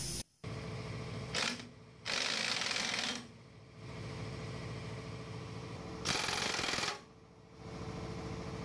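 A tool ratchets and rattles in short loud bursts while tightening a bolt on the front suspension of a 1966 Ford Bronco, with steadier mechanical noise between bursts and no talk.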